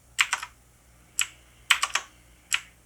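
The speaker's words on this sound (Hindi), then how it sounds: "ये मेरा कीबोर्ड है, और इसमें जादू दिखाए आप सभी को" Keys pressed on a computer keyboard, close and crisp clicks in short bursts of two or three with pauses between, alone with no talking.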